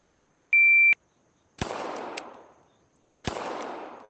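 A short electronic start beep, then two sharp simulated pistol shots about 1.7 seconds apart during a US Air Marshal pistol qualification in the ACE VR video game. Each shot is loud and close with a brief decaying tail, and no talking.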